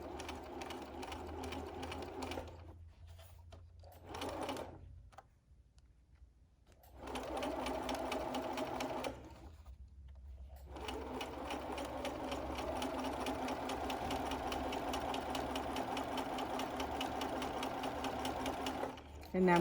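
A sewing machine runs in bursts while top stitching 1/8 inch from the edge of a fitted face mask, a rapid mechanical whirring with brief pauses, and someone talks over parts of it.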